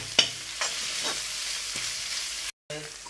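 Vegetables being lightly sautéed in a pan for dragon chicken give off a steady soft sizzle, broken by a few sharp clinks and scrapes of a stirring spoon, with no talking.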